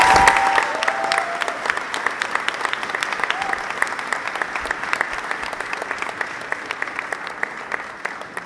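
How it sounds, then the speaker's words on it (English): Sustained audience applause at an 8th grade school awards ceremony for gold award winners, dense steady clapping from a crowd filling the room for several seconds. "round of applause for our gold awardees"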